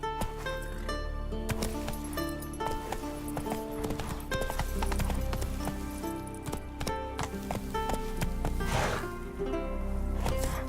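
Horse hooves galloping in The Witcher 3 on PC, a fast rhythmic clip-clop with occasional whinnies over game music and ambient sound, loud and close.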